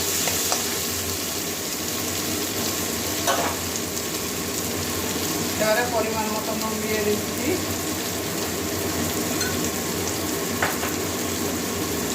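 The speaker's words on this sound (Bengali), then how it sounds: "এবারে একটা টমেটো কুচি দিয়ে দিচ্ছি বড় সাইজের একটা টমেটো কুচি করে নিয়েছি" Chopped tomato for a fish roe curry fries in a pan alongside slit green chillies, giving a continuous close sizzle with a few faint clinks and stirs and no voice.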